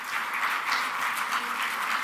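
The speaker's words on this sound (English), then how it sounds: "Let us have a big round of applause for our speaker." Audience applause for a speaker at an ICAI Dubai Chapter career preparation event: a soft, steady wash of crowd clapping, fairly distant and quiet, continuing without pause.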